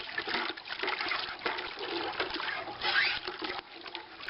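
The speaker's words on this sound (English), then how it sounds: "I'm going to put about 4 gallons of water in here." About four gallons of water pour into a bucket for compost tea, a steady splashing rush that continues almost unbroken from start to finish.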